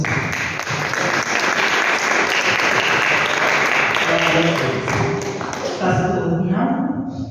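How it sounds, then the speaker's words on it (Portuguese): Church congregation applauding together in praise, dense sustained clapping filling the space, with music and voices underneath that fade near the end. "E as palmas louvam o Senhor."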